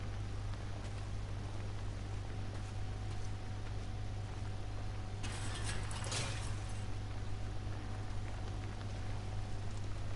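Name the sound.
rain in video game Days Gone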